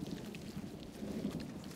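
Soft, steady patter of rain falling in the desert, a brief continuous wash of drops without distinct thunder.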